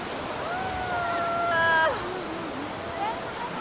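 Surf washes onto a shore along the coast of Pangasinan, a steady broadband rush from breaking waves, heard under excited voices and a rising whistle-like call.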